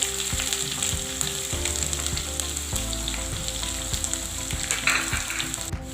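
Finely chopped onion sizzling in hot oil with curry leaves for kappa upma, a loud, close crackling fry with rhythmic scraping stirs repeating through it.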